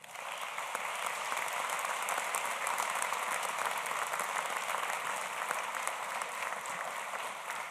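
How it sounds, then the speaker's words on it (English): Sustained audience applause at a university commencement ceremony, a dense, steady wash of many hands clapping that holds evenly at full strength throughout, with no voices over it. "Please, a big round of applause for them."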